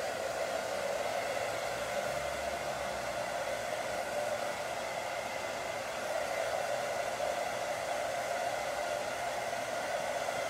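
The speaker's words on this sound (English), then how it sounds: "So I'm just going to go ahead and get her dry." A hair dryer blows steadily at close range while a client's hair is dried after a short clipper haircut, a constant unbroken whoosh with no talking.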